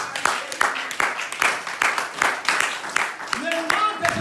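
A church congregation applauding at a worship service: rhythmic, evenly spaced clapping in unison, roughly two claps a second, under a voice speaking and singing over it.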